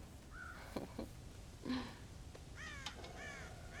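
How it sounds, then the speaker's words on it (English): Crows caw in a Red Dead Redemption game scene at a farm silo where they are raiding the corn, a few scattered harsh calls against quiet ambient game sound. "They've broken into the silo again and are eating all the corn out from it."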